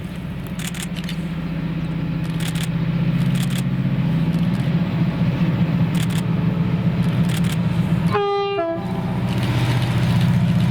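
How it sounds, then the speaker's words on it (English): A train passes at West Kilbride in Scotland after a running brake test, its loud steady rumble and clatter close by, cut through midway by a short two-tone horn blast before the rolling noise carries on. "Then seen passing here at West Kilbride after performing a running brake test at 12:47."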